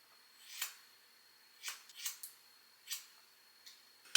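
Scissors snip curly hair during an at-home layered haircut, giving about six short, crisp, close cuts spaced irregularly over a quiet background.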